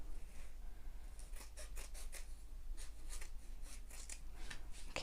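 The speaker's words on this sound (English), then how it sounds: "I've got my scissors kind of held at a bit of an angle" Scissors held at a low angle snip through fabric for a shoulder bag, giving a series of quiet, quick crisp cuts in irregular bursts over a faint background hum.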